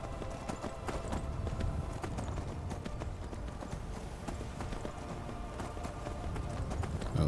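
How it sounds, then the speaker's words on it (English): A horse's hooves pound in a steady rapid galloping clip-clop while riding in the Skyrim video game, continuous and fairly close over a low rumbling game backdrop, with no voices. "I know this horse can basically ride vertically up a mountain"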